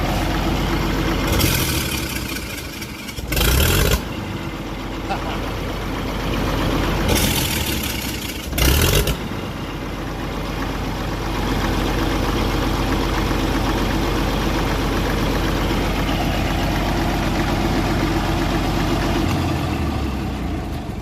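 A 1961 Case 930 diesel tractor engine idles steadily up close, a deep continuous chugging rumble broken by two brief louder surges.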